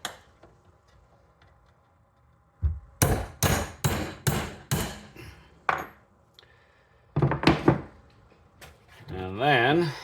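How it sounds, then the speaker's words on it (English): Sharp hammer strikes knock out spark plug tube seals on a 2002 Honda Civic engine, a quick burst of five metallic blows, then a pause and a second cluster, with brief speech at the end. "basically just hammer them out of there."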